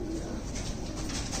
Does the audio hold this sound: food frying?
no